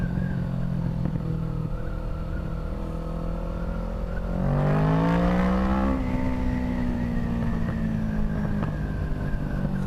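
Motorcycle engine revving hard while riding on an open road, a steady loud drone that climbs sharply in pitch for a couple of seconds mid-clip before settling back, with no talking.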